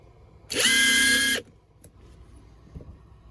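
Hercules 20V compact impact wrench running free on its third speed setting, a loud high-pitched whine lasting about a second with a sharp start and stop, followed by quiet handling clicks.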